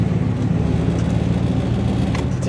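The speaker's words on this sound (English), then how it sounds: "Car's running good." A 1966 Oldsmobile Toronado drives along with its engine running at a steady, low rumble and some road noise, loud and close, with no talking.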